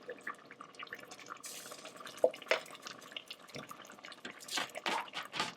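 Canned sweet peas from a 15-ounce can pour into a pot of chicken and dumplings, giving soft wet drips and splashes with a few sharper plops, fairly quiet and with no talking.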